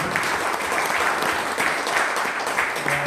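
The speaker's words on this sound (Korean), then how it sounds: "우리 하나님께 박수를 한번 올려드립니다" A church or university audience gives steady, dense applause that fills the whole stretch without pause.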